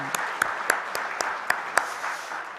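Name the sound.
congregation applause of comfort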